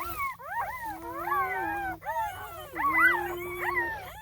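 Newborn guardian dog puppies whimper and squeal while nursing, a close chorus of high, wavering cries overlapping continuously with brief dips, over a steady low hum.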